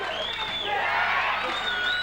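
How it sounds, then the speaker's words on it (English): Crowd cheering and shouting at a kickboxing fight, a steady roar with rising whoops held for a couple of seconds, fairly loud and unbroken. "The crowd starting to get behind Jenk now."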